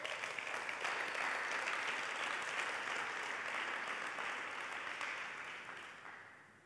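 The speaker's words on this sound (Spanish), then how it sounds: "un aplauso al rey" A church congregation breaks into applause during a sermon. The clapping is thick and continuous, and it gradually thins and fades toward the end.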